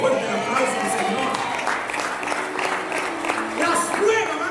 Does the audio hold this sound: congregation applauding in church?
yes